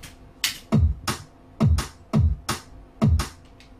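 A drum and bass beat programmed on a step sequencer, with kick and snare placed on set steps, playing back alone: deep punchy kicks alternate with bright cracking snares in a steady, fast repeating pattern for about four bars.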